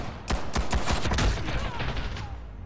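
Rapid bursts of gunfire in the shooter game Ghost in the Shell First Assault, a quick cluster of sharp cracks followed by fainter distant shots, fairly loud and close.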